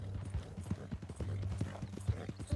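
Horse hooves clip-clopping in Red Dead Redemption 2, a quick uneven run of close hoofbeats on hard ground, loud and alone with no voices.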